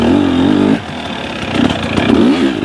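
A KTM motorcycle engine revs close by with a rising buzz, then drops back and climbs again as the throttle is opened.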